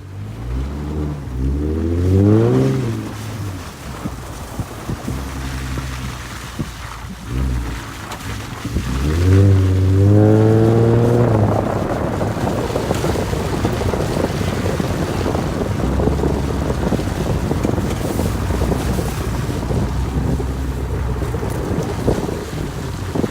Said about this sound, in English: So we drove through the mud, had huge holes.